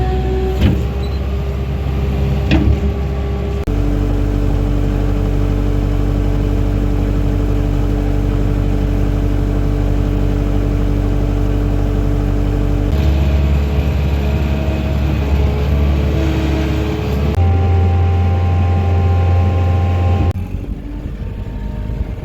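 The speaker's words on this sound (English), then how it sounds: "while I had the skid steer going" A skid steer's engine runs steadily and loud for the whole stretch, a strong low drone with shifting tones as the machine works, no talking over it.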